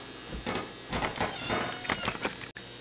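A cat meows several times in quick succession, faint and close by indoors at home, with short whiny calls spread across a few seconds.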